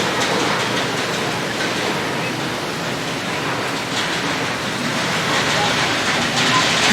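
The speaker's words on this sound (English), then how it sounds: "The roller coaster comes down and water splashes up." At Busch Gardens, a roller coaster plunges down and throws up a big splash of water. A loud, rushing roar like a torrent or heavy downpour churns on steadily for several seconds, and faint crowd noise sits beneath it.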